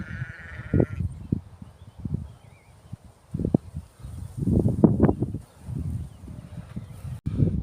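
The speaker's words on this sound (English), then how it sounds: "Little lambs." Lambs bleat near a solar farm camp at sunset, several short calls scattered in an irregular run, some close and fairly loud, others fainter, over quiet outdoor background.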